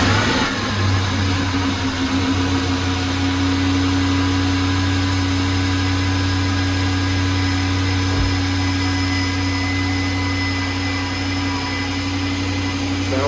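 A 5.7 HEMI V8 fitted with a Hellcat supercharger and running on E85 fires for its first start, settling into a loud, steady, rumbling idle with supercharger whine that stays close and constant throughout.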